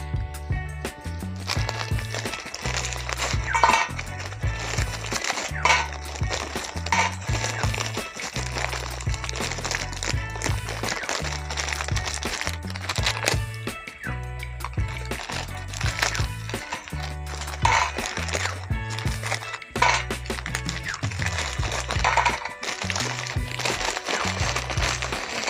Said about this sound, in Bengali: এখন আমি বিস্কুটটাকে বের করে গুঁড়ো করে